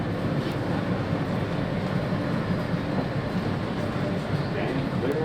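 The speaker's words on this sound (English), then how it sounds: "This is a Queens-bound Hughes Express train." A Queens-bound express subway train in New York rolls along with a loud, steady rumble and rattle that stays constant throughout.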